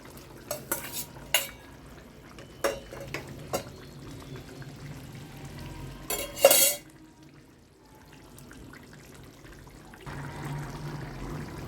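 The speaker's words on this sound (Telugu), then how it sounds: "పులుసు మరుగుతుందండి. చేపలు, గుడ్లు అన్నీ వేసేస్తున్నాను." A pot of simmering egg and dry fish curry being stirred, with a series of sharp spoon-against-pot knocks and scrapes over a low bubbling background, then quieter steady simmering toward the end.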